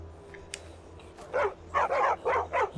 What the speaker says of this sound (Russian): Собака запуганная какая-то, у нее здоровья мало.